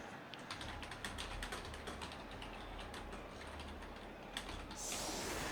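Steady, quiet clicking of keys on a computer keyboard runs throughout, with fast irregular keystrokes over a soft background hum.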